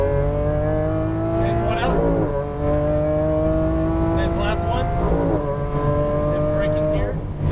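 A Lamborghini Aventador LP700-4 accelerating hard on a race track, its engine roaring loudly and rising in pitch, with two sharp gear changes that cut the note briefly before it climbs again.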